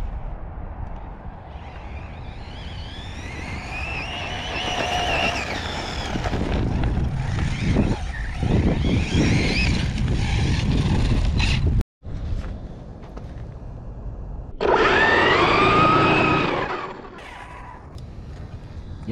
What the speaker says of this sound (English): I got a tire coming unglued. You can hear it.